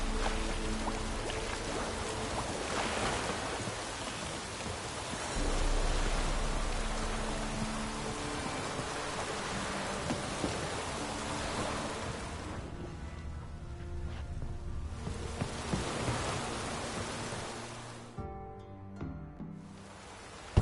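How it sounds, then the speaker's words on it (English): Steady rain falls in The Witcher 3, a broad hiss of drops running nearly the whole way through, with a couple of short dips where it thins out. "Looks like rain."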